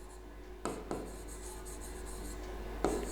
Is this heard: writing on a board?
yes